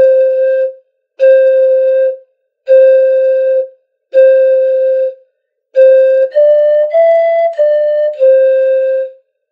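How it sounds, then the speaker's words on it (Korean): A Peruvian pan flute plays a simple tune of held, slightly airy notes separated by pauses, ending with a short stepped phrase. It is solo and close. "페루식 악기를 한번 보겠습니다."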